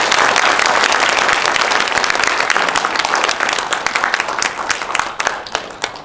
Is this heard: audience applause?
yes